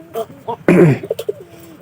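A pigeon coos once, close and loud, with a deep throaty rolling call at a home pigeon loft, surrounded by a few brief softer vocal sounds.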